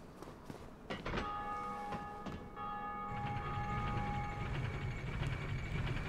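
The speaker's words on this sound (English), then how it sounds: "Keep ringing those bells." In Dark Souls, a bell tolls with a bright, sustained metallic ring that rises from clattering sounds and slowly fades, followed by a low rumbling background.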